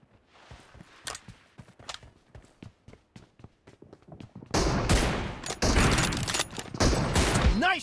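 Gunfire in the mobile battle-royale game PUBG Mobile: scattered single shots and light footfalls at first, then a dense, loud burst of sustained automatic fire filling the second half.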